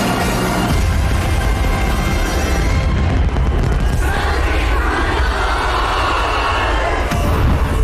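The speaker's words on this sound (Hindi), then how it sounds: "रेड स्क्वायर पर जोरदार आतिशबाजी होने लगी।" New Year fireworks over Red Square in Moscow burst in a dense, continuous barrage of loud booms and crackling pops with no pause.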